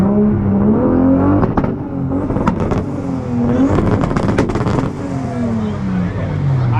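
A Toyota Supra with a 2-step launch control setup revs hard and close, its engine note climbing and falling in repeated surges with sharp crackling pops, over a loud steady drone.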